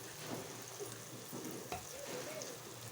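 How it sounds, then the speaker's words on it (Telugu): Ginger garlic green chili paste hits hot oil in a frying pan for a fish curry, a steady soft sizzle heard close and quiet throughout with faint stirring scrapes. "చూడండి అల్లం వెల్లుల్లి ముద్ద వేస్తున్నాను"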